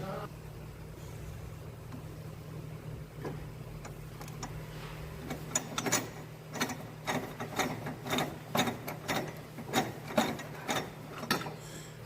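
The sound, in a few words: 1/2 inch ratchet loosening a car's inner tie rod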